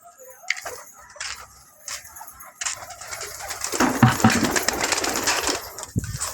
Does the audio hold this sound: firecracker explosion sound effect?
no